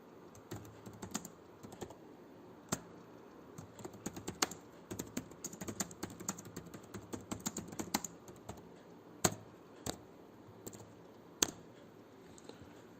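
A chat message is typed on a computer keyboard: close, quiet, irregular bursts of key clicks with brief pauses between them.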